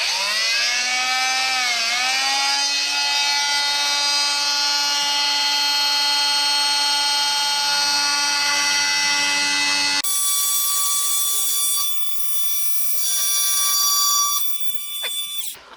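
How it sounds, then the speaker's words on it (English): Power tool cutting relief slots at the ends of the control surfaces on a vacuum-bagged aircraft wing, a loud high whine that rises and holds for several seconds, then stops and gives way to shorter, bumpier cutting bursts. "first thing I'm going to do is cut my relief slots for the end of the surfaces"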